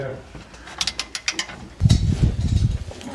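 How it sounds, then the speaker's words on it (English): Quick ratcheting clicks from tightening the clamp on the downpipe of an aftermarket CSZ exhaust fitted to a BMW X3 M40i, a rapid run of close clicks followed by heavier metallic rattling and knocking. "I'm clamping down the downpipe now."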